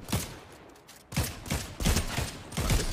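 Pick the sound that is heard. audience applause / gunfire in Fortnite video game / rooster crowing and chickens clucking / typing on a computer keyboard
gunfire in Fortnite video game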